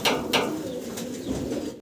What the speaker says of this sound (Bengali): আবারও শ্যালো কবুতর দেখাচ্ছি